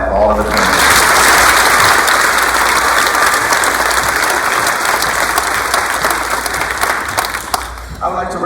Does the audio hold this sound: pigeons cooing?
no